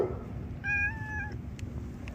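An orange cat gives a single clear, drawn-out meow lasting under a second, close and fairly loud against a low indoor background hum.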